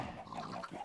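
Pig grunts and oinks from a Minecraft-style video game, a short burst of animal noise heard close over a faint game background.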